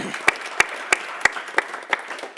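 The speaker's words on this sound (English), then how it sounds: "Big applause for Kathleen." Applause for a panel speaker at a discussion on EU liberal democracy: crisp, evenly spaced claps, about every third of a second, fairly close and clear, tapering slightly toward the end.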